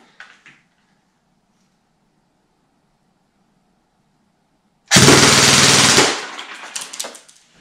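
An airsoft gun powered by a lipo battery fires a single loud, roughly one-second full-auto burst at a chronograph, followed by a few faint scattered ticks. Near-silence precedes it.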